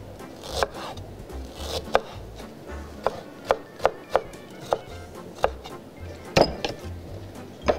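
A kitchen knife chops garlic and ginger on a board, giving a run of about a dozen sharp, close, separate cuts at an uneven pace over a low background hum.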